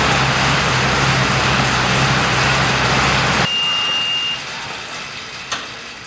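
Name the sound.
car engine while driving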